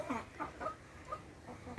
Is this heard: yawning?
no